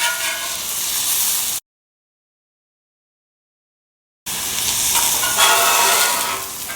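Chicken with spices stir frying in an off-grid outdoor kitchen, a steady close sizzle that cuts out to total silence for a few seconds before resuming just as strongly, with no voices.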